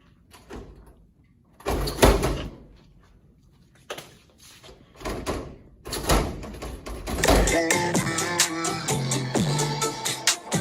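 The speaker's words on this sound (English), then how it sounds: "Okay, I'll need you to open the door, walk out, and then come back in." A door is opened and closed as someone walks out and comes back in, giving several sharp knocks and thuds with short gaps before busier, continuous clattering and shuffling, all fairly close.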